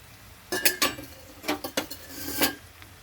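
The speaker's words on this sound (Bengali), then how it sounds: "তো চাপাটা নামিয়ে নিচ্ছি।" A metal lid lifted off a cooking pot of simmering ash gourd, potato and prawn ghonto, giving a few sharp clinks and scrapes in quick succession, close and fairly quiet with no talk.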